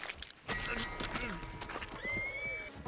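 In Red Dead Redemption 2, a horse neighs with a loud, close, shrill whinny that rises and wavers, over clip-clopping hooves and faint background voices.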